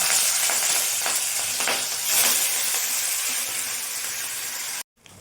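Fish frying in hot oil in a heated wok, a steady broadband sizzle with a few brief bursts near the start, continuous for about five seconds, then cutting off abruptly near the end.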